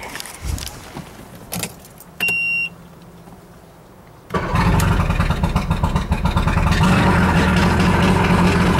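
Keys jangle, a short beep sounds, then a cold 125-horsepower outboard motor on a Fish and Ski 1809 boat cranks and roars to life, running loud and steady to the end.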